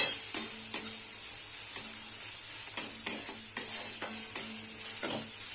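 Chopped garlic and coriander fry in a pan with a steady bright sizzle, while a spoon stirs and scrapes against the pan in repeated irregular knocks, close and moderately loud.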